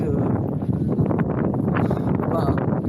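Wind at a beach buffets the microphone in a steady, rough rumble, while a person talks over it throughout.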